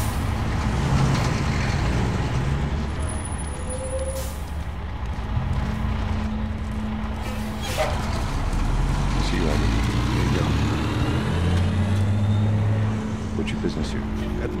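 A vehicle rolls slowly through a military checkpoint in The Last of Us, a steady low engine rumble with a short air-brake hiss and background chatter of voices.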